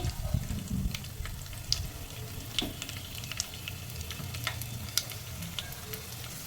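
Cumin seeds, tempering seeds, a dried red chilli and garlic cloves sizzle in hot oil with a steady crackle, while occasional sharp pops and stirring scrapes sound close up.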